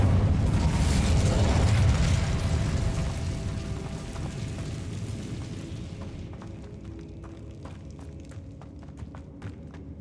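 Incendio fire spell cast in Hogwarts Legacy, a loud whooshing, roaring burst of flame that swells over the first two seconds and then slowly fades into a crackling tail with scattered small pops.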